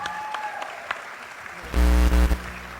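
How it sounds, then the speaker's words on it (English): Pageant audience bursting into applause, a brief loud swell of clapping after a moment of quieter ambience, heard in a large hall. "let's give these gentlemen a big, big round of applause"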